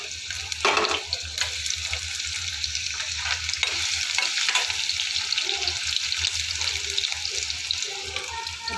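Cumin, onion, ginger and green chilli fry in a pan with a steady close sizzle, while brief stirring scrapes and splashes of water come and go. No one speaks.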